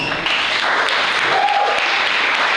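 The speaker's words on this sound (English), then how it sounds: "give her a hand clap" Banquet audience giving a hand clap after a student's speech, a dense, steady wash of applause filling the room, with a brief voice rising faintly through it midway.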